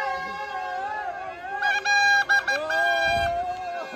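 Noisy crowd at a village fair (jatra), a dense babble of voices with horn-like honks and clattering bursts in the middle, and someone talking close over the din.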